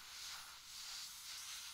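A hydrant-fed fire hose in the Flashing Lights firefighting game sprays water on a blaze, giving a soft, even rushing hiss with slight rhythmic surges, quiet and without voices.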